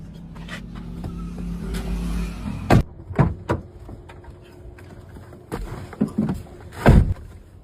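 A car door slams shut in a few sharp, heavy thuds spread over several seconds, set against a low rumbling background with no talk.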